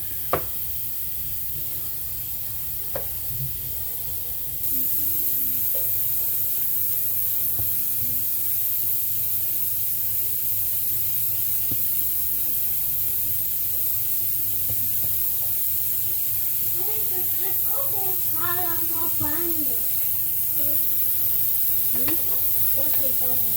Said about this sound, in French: je vais les mettre dans une poêle, je vais chauffer une poêle